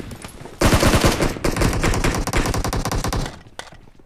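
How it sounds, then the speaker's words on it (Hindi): Rapid bursts of automatic gunfire in the video game BGMI rattle loudly for about three seconds, dense and continuous, then trail off into quieter scattered shots. "गोलियां बारूद चलते हुए"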